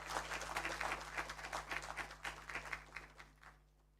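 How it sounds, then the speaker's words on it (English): Audience clapping for a presenter at a fibre and data industry summit in Kenya, a scattered, uneven patter of hands that is moderately faint with a steady hum underneath and fades out near the end. "Henry deserves a clap that can be heard in Kampala."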